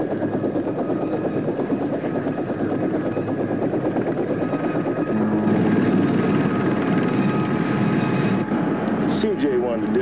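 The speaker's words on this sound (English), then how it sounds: "The stolen helicopter just landed at the Queen Mary." A helicopter sets down in a parking lot beside the Queen Mary, its rotor a loud, steady throbbing drone that fills the scene, with voices talking over it.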